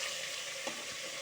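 Eggplant and green chillies frying in a pan give a soft, steady sizzle, with one brief stir or scrape partway through.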